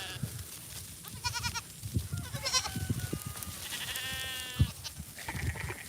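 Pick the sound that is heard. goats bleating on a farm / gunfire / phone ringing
goats bleating on a farm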